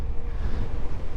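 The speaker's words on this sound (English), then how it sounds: "Wow, it's windy today." Steady wind buffets the microphone during an electric mountain bike ride, a continuous loud low rumble with no other distinct sounds.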